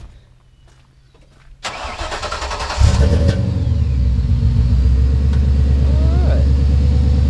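A four-eye Ford Mustang Fox-body cranks and catches, then settles into a loud, close, rumbling idle with light revving that holds steady to the end.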